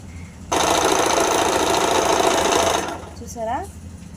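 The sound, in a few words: sewing machine stitching a zigzag seam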